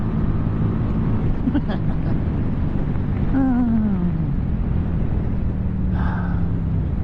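A 2023 QJ Motor SRV300 motorcycle powers out of a corner with a loud, steady engine drone under heavy wind rumble, its pitch sweeping downward across a gear change.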